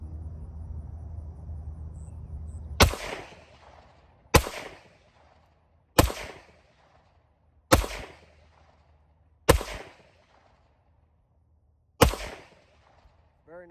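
CZ75B Omega pistol with a 4.6-inch barrel firing Speer self-defense rounds, six loud sharp shots spaced a second or two apart, each with a short ringing tail over faint outdoor background.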